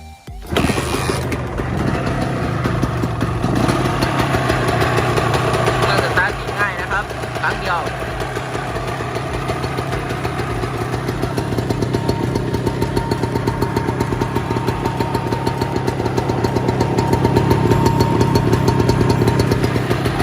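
A 1989 Honda MTX125R motorcycle engine idles steadily and loudly close by, a continuous rough putter with a brief rev near the start, while someone talks over it.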